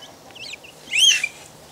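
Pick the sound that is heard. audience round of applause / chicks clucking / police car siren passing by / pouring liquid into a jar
chicks clucking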